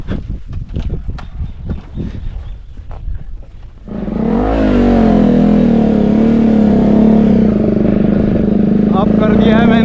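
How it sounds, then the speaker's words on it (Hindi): A motorbike in a mountain village near Almora starts up after a few seconds of close shuffling and knocking, then settles into a loud, steady running engine that rises slightly toward the end. "करते हैं अपनी बाइक स्टार्ट।"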